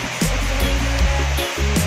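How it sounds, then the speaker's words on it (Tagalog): Heavy rain pours nonstop at a mountain roadside restaurant near Little Baguio along the Laguna to Infanta, Quezon road, a dense close hiss with a few soft low thumps and murmurs underneath. "Ang lakas ng ulan."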